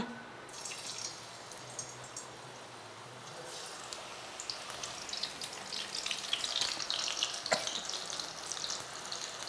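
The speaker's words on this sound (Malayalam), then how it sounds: "ഇതെങ്ങനെ ഡീപ് ഫ്രൈ ആവണം" A snack deep fries in hot oil, a bubbling crackle that builds from quiet to a busier, brighter sizzle with scattered pops and drips throughout.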